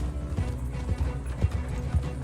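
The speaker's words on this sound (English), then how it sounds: "Shouldn't have been walking through the road when you saw a horse coming." A horse gallops past on a road in a Western-style video game, hooves clip-clopping in a steady, rapid rhythm over a dense, continuous rumble, fairly loud and close.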